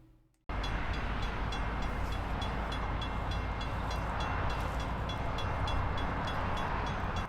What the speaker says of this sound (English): here comes the train into view, about to cross the Dorman Road grade crossing